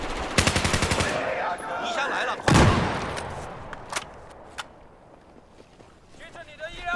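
AR-160 rifle fire in Battlefield 4 multiplayer, a rapid automatic burst of close, loud shots followed by a heavy blast, then scattered distant pops and ambient battle noise.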